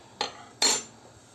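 Couscous cooking in a pot is stirred with a utensil, giving two sharp metallic scrapes against the pot about half a second apart, close and clear over a quiet background.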